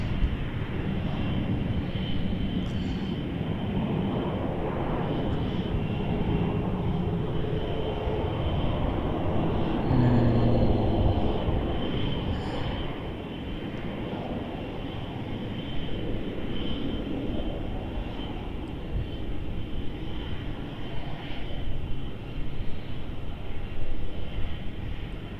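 A Jetstar airliner, flight 884, passes at Melbourne Airport as a continuous broad engine rumble that holds steady for about twenty-five seconds, dipping slightly midway.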